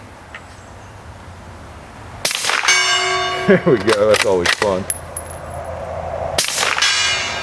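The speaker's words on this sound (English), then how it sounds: "Oh, we can shoot the gong with one of these." A suppressed 5.56 rifle fires and bullets strike a steel gong, giving loud, sharp shots followed by bright ringing clangs that echo and decay, with someone speaking between hits.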